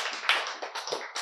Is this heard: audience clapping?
yes